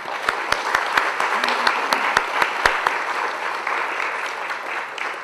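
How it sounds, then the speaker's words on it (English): A lecture hall audience applauds, a broad wash of clapping with a few sharp, close individual claps standing out early on before the sound settles into steady, moderate applause. "I would like you to join me in giving her a clap for integrity"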